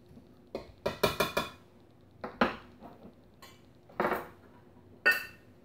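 A spoon clinks and scrapes against a bowl while chocolate muffin batter is mixed, in quiet, irregular strokes with pauses between them and no talk.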